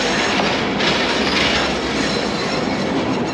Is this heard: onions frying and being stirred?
no